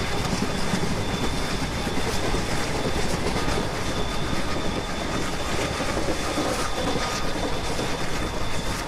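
A diesel locomotive hauls the Humsafar Express in an Indian Railways train simulator, its steady rumble and rattling wheels holding loud and constant throughout.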